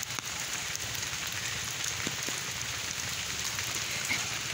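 Continuous rain falling on a flooded village yard and garden in rural Bangladesh, a steady soft hiss with scattered drop ticks, faint and alone without voices.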